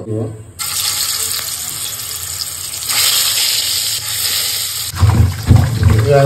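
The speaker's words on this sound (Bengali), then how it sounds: "ভালোভাবে ধুয়ে নিব।" Tap water runs steadily into a sink as fish is washed under it, a continuous close splashing hiss with heavier thumps and sloshing toward the end.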